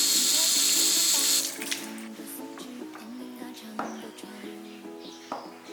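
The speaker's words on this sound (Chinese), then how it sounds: "再把韭菜洗干净。 豆腐也洗一下。" Running tap water splashes into a sink as chives and tofu are rinsed, loud and steady at first, then easing into quieter trickling and handling noises, with a voice speaking alongside.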